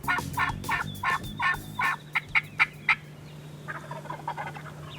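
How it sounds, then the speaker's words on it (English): Wild turkeys gobbling on a spring hunting morning, a loud run of rapid pulsed gobbles, then sharper clucks, followed by fainter, more distant gobbling calls against outdoor ambience. "they're gobbling already this morning"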